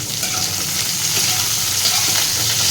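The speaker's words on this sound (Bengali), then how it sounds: "আলু ফুলকপিটা ভাজা প্রায় হয়ে এসছে" Potato and cauliflower pieces sizzle steadily in a hot pan, a loud, continuous close-up frying hiss with faint stirring scrapes and no speech.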